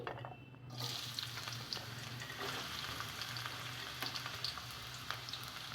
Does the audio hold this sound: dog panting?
no